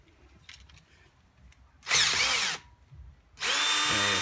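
A power drill, used while changing the front brake rotors on a BMW 5 Series E60/E61, runs in two loud bursts about a second long each and slips enough to undo its own chuck, with quieter handling noise in between.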